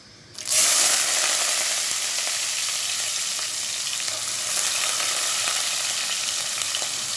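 Onion pieces and curry leaves hit hot oil with a sudden loud hiss, settling into a steady, close, bright sizzle and crackle that continues without any voices.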